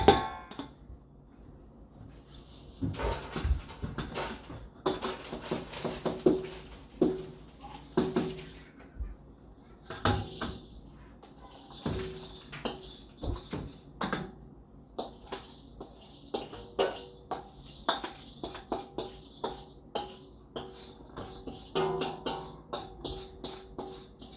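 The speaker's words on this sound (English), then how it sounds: "So now we're just going to simply dump all this delicious raw granola onto the pan." Loose raw homemade granola of oats and clusters rattles and patters onto a pan in scattered soft bursts and taps, some close and sharp, with no talking.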